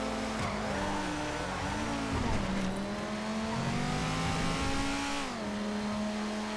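An LMP3 race car engine revving in a GTA FiveM street race, a sustained buzzing drone that climbs and dips in pitch with gear changes, with someone talking over the engine noise.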